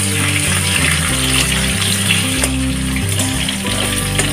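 Potatoes frying with sugar in a pan, a loud continuous sizzle and bubbling close up, with a steady low hum beneath and no talking.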